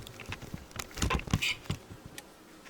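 Bees from an opened beehive with a queen, buzzing faintly in short, scattered bursts as individual insects pass close by, with soft tapping and handling noises in a quiet setting.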